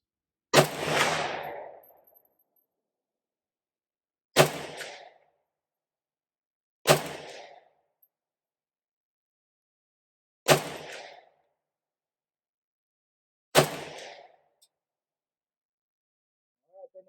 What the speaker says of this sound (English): let's go ahead and shoot first 5 rounds at 50 yards